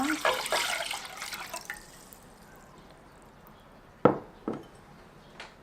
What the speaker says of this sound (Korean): 사골 육수를 부어줄게요